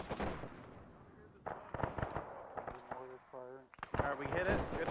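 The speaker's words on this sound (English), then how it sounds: "We got mortars firing from us." Friendly mortar fire in a WW2 video game set at Arnhem, heard as repeated thumps and blasts mixed with game noise, with people talking over them.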